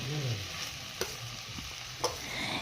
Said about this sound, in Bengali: হালকা হাতে চালটাকে কিন্তু ভেজে নিতে হবে